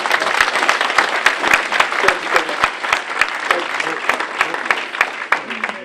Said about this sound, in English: Give them a round of applause to our precinct committee